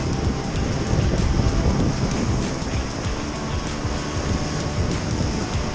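Ocean swell breaking on a sheltered stretch of coast during a small-wave day, a steady wash of surf and churning water with wind noise buffeting the microphone throughout, no voices.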